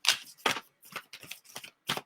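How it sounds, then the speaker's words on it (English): A deck of tarot cards being shuffled by hand: about six quick, soft riffling bursts in an irregular rhythm, close and quiet, with no talking. "I'm going to shuffle through one more time."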